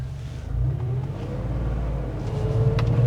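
A classic Porsche 911 Targa Supersport SSE pulling away down a road, its engine rumbling low and building as it accelerates, close and steady with no talking.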